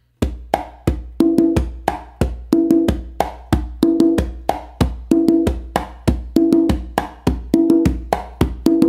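Conga tumbao pattern played entirely with open bass strokes, a steady loop of deep, resonant hand hits with quicker accented tones in between, close and clear with no talking.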